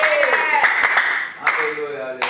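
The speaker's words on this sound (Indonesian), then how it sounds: "Berikan sorak-sorai buat Tuhan" A church congregation claps rhythmically and cheers for God, with voices raised over the hand claps in a lively, reverberant hall.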